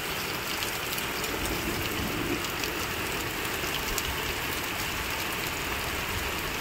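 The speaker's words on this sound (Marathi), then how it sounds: "आणि आज गारांचा पाऊस पडू राहिला." A village hailstorm with rain and wind produces a constant, fairly loud wash of falling water with fine ticking impacts scattered through it, steady from start to finish with no voices.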